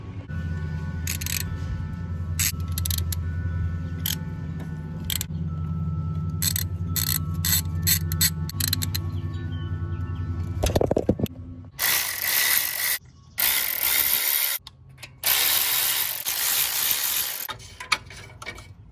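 A ratchet works loose an O2 sensor on a slammed ES1 Honda Civic. Quick bursts of close clicking come first, then a metallic clunk and a run of harsher, noisier ratcheting and scraping, all loud with no talking.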